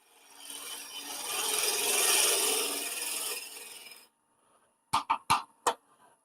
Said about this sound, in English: I'm gonna roll the tool over and scrape a little bit back and forth.